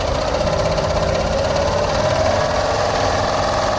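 A serger sewing machine runs fast and steadily, producing a dense, even mechanical whirr with a rapid stitching rattle, close and uninterrupted throughout.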